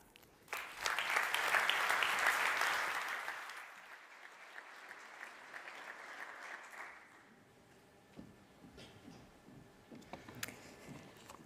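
Loud applause from a conference audience at a business forum swells quickly, then fades into scattered clapping and room murmur.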